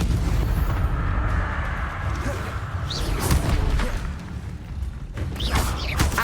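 A Confringo fire spell explodes in Hogwarts Legacy, with booming blasts and crackling bursts over continuous loud combat rumble and magical whooshes.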